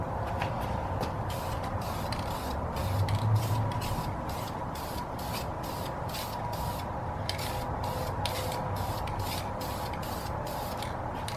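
Spray can laying clear coat onto an aluminum wheel: a regular series of short hissing bursts, each about half a second with brief pauses between them, close and steady.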